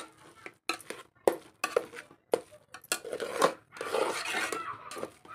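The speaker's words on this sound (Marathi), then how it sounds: "आता असं एक 5 मिनटं ह्याला कंटिन्यू हलवत राहायचं" A spoon stirring grated red pumpkin in a pan over a low gas flame, with irregular metallic scrapes and clinks against the pan, close and distinct, separated by short pauses.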